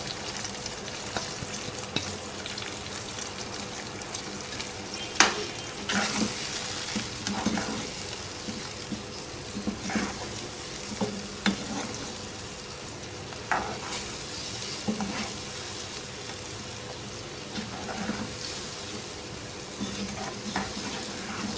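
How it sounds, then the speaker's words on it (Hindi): Chicken mirchi curry with yogurt, tomato and spices cooks down in a pan, a continuous soft sizzle broken by frequent scraping stirs of the spoon. "अब इसको इतनी देर तक कुक करेंगे कि दही और टमाटर का पानी खुश्क हो जाए"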